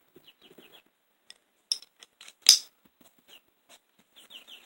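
Chicks clucking and peeping in short scattered bursts, one louder squawk near the middle, with faint clinks in between; no talking.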